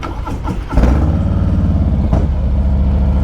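A Harley-Davidson Fat Boy motorcycle with a factory-tuned Cobra 2-in-1 exhaust cranks and catches, then settles into a loud, close, lumpy idle with a brief blip of revs, no talking over it.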